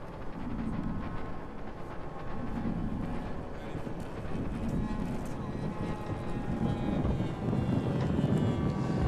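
A steady airplane engine drone with heavy wind rush fills the cabin, rising and falling slightly throughout, with faint speech mixed underneath.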